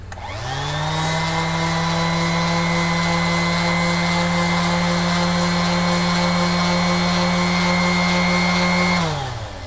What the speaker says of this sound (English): But if I take my power sander here